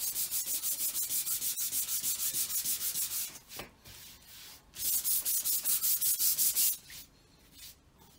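Rhythmic back-and-forth sanding of wood, rapid scratchy strokes in two long runs separated by a pause, close and steady.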